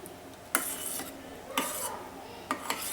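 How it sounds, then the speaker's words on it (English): Milk and butter stirred in a pan with a spoon as the butter melts, a few sharp utensil scrapes and clinks against the pan, about one a second, over a soft steady background. "Just stir it till the butter melts."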